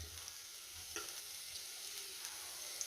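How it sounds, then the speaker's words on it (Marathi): Onion frying in a spoonful of oil in a pan, a faint, even sizzle with an occasional soft stir, quiet and continuous with no voices. "मी गॅसवरती पॅन ठेवलाय, त्यामध्ये 1 चमचा तेल घालते आणि आता आपल्याला तेलावरती कांदा चांगला लाल होईपर्यंत परतून घ्यायचा आहे।"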